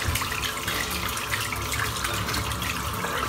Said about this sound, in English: I'm just going to rinse the soap out.